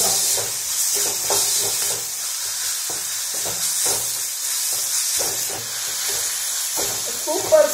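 Finely chopped onion sizzles steadily in a hot pan for momo filling, a constant close hiss broken by rhythmic stirring scrapes, with faint speech underneath.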